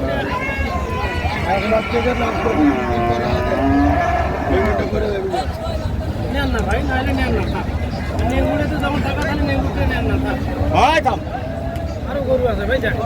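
A large bull moos at a busy cattle market, its drawn-out calls rising over steady crowd noise and nearby talk.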